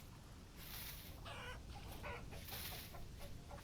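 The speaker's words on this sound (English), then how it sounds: "Look out, chickens." Chickens cluck repeatedly in the Vintage Story survival game, heard as several clear, nearby bird calls over a steady, noisy outdoor ambience.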